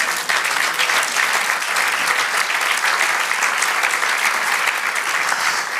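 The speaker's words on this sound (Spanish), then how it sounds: "Dale un aplauso al Señor." Steady, full applause from a church congregation during a Spanish-language sermon, a thick wash of many hands clapping continuously and loudly without a break.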